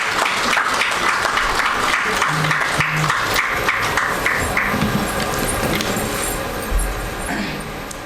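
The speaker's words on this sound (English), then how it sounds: "A big round of applause." Audience at a book release function and symposium applauds warmly, a thick burst of clapping with distinct individual claps that slowly thins toward the end.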